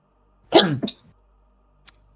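A single close, sharp sneeze bursts out, followed by a brief breathy trail and then quiet, with a small click shortly after.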